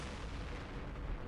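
A unit fires in the Campaign Series Middle East war game, a steady rumble of artillery-like firing that fills the short stretch, with no talk over it.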